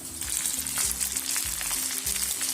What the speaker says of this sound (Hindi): ये हमने समोसे इसके घी के अंदर डाल दिए हैं फ्राई करने के लिए।